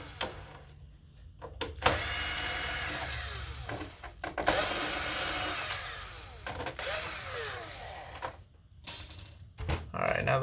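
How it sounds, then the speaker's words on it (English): Screws being backed out of a PS5 cooling fan with a screwdriver, a buzzing, whirring power-driver sound in several bursts, close up with brief pauses and a voice talking over it. "We're going to take the fan screws out."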